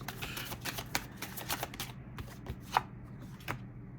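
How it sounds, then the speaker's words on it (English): Tarot cards are pulled and shuffled from a deck in rapid, close papery flicks and slides, a dense run of crisp snaps that thins out toward the end. "Let me just pull all the cards."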